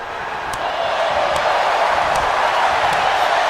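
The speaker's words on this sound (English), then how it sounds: "Crowd firing up here." Crowd noise at an indoor professional wrestling event, a steady, dense roar of cheering that swells slightly and holds loud throughout, with a few faint sharp impacts surfacing above it.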